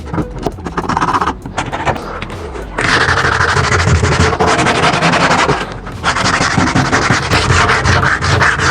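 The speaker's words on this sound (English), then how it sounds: "just make sure you give it a really good sand" Weathered, paint-flaked solid wood being hand-sanded with 80 grit sandpaper: close, loud rasping strokes in long steady runs, broken by a couple of brief pauses.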